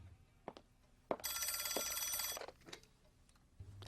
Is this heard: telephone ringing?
yes